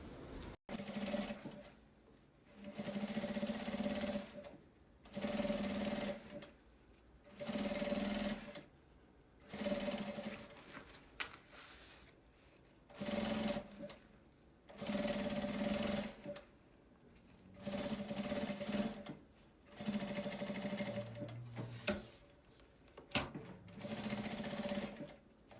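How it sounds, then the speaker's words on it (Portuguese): A sewing machine stitches along the edge of fabric for a nail polish holder, running in repeated short bursts with brief pauses between them, close and steady. "Primeiro, a gente vem, costura aqui, aqui bem na bordinha e na outra ponta."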